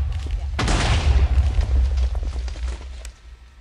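A furnace trap explodes in a video game with one sudden heavy boom. A rumbling, crackling tail follows and fades over a few seconds.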